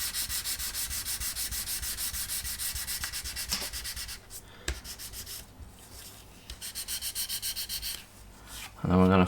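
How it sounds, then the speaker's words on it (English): Fine 600 grit sandpaper rubs over small wooden model boat parts in quick, even back-and-forth strokes, close and crisp, pausing briefly midway before the rhythmic scratching resumes and ends in a louder burst. "I'm using a 600 grit, and I'm just going to go with the grain initially"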